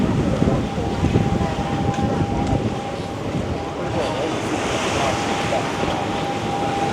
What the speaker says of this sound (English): Here's your beach area here at Duyung Beach.